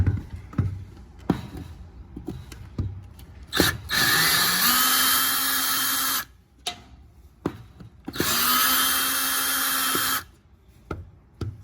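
A power drill removing screws from a screen door runs in two sustained bursts of a few seconds each, whirring loudly between short clicks and handling knocks.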